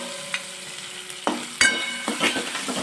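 Curry leaves and green chilies hit hot oil for Gujarati kadhi, bursting into a close sizzle with crackling pops and stirring scrapes, the frying hiss building and carrying on without talk.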